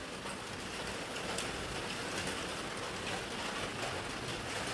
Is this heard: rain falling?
yes